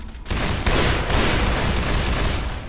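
Gunfire in the Left 4 Dead 2 Cold Stream campaign: a loud, dense, continuous volley of shots that rolls on without a break for nearly three seconds.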